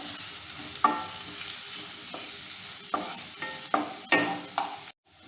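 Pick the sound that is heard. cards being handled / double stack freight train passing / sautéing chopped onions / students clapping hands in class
sautéing chopped onions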